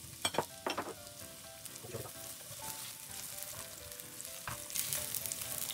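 Shredded ginger and carrot frying in hot oil in a wok, a steady close sizzle with a few sharper crackles and stirring scrapes at the start, continuing evenly to the end.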